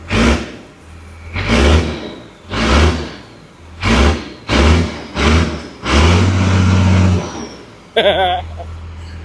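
A truck engine revs repeatedly through its exhaust in a shop, about seven loud throaty bursts in a row, the last one held longer before a brief hiss.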